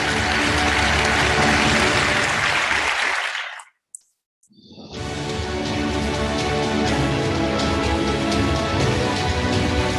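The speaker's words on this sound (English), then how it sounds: "Let's give him a huge round of applause," Audience applause for an award winner at an education summit awards ceremony, a loud, dense wash of clapping that cuts out to near silence for about a second before resuming just as strongly.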